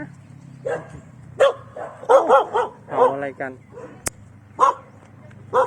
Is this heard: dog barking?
yes